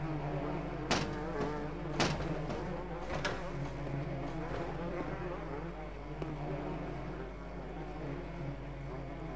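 Insect buzzing of bees in the dark adventure game Barrow Hill: The Dark Path, a steady continuous drone with a few sharp clicks over it, without speech.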